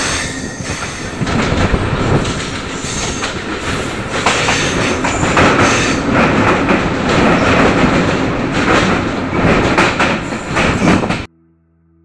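A train running through dense forest in the Valmiki Tiger Reserve between Bihar and Uttar Pradesh, loud steady rumble of wheels on rails with clattering and squealing, continuous and close before cutting off abruptly at the end.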